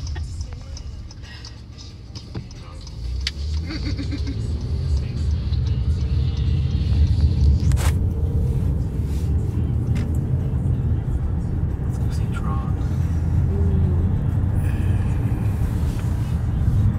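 A car drives through Disney World, heard from inside as a steady, fairly loud road rumble with a few faint ticks and clicks along the way.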